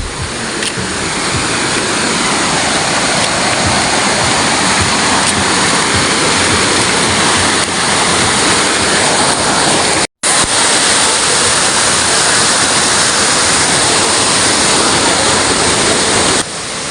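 Busay Falls in Babatngon, Leyte pours in a steady, loud, broadband roar of falling water, continuous and close with a brief cut midway.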